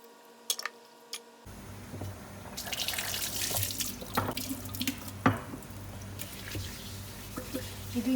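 Water runs steadily from a tap into a marble kitchen sink during washing, a continuous splashing stream with small clinks and knocks, after a few brief taps at the start.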